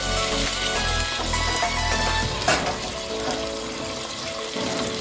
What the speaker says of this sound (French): Maintenant, on va verser les fèves.